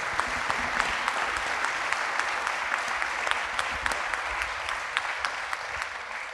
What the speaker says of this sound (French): Oui, on peut l'applaudir, vous avez raison.